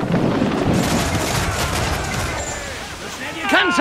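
A broadside from ship cannons in Assassin's Creed Black Flag rumbles as a rolling series of booms with crackling blasts, amid wind and shouting voices.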